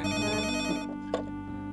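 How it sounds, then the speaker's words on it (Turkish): A household telephone rings indoors in a Turkish sitcom scene, a bright repeating electronic ring that cuts off partway through, followed by a short clatter as the handset is picked up. No one speaks. "Abbas Efendi, telefon."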